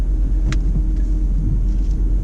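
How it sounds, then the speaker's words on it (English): A learner driver's car creeps forward into a parking bay, giving a low, steady engine and road rumble close by with a brief higher noise partway through. "now let's just bring the car forward"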